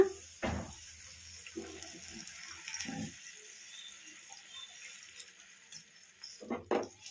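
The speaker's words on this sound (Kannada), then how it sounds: "ಅದೇ ಕಪ್ಪಿಂದ ಎರಡು ಕಪ್ಪು ನೀರು ಹಾಕೋಣ" Water is poured from a cup into a fried gram flour mixture for Bombay chutney, heard as a few short, quiet splashes separated by near silence, with no talking.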